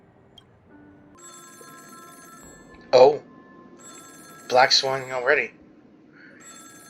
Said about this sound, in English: We're back at the moment where this phone was ringing.